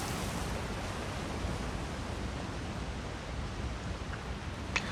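Steady rushing water from a waterfall beside a house in Elder Scrolls Online, a continuous broadband roar holding even throughout with no talk over it.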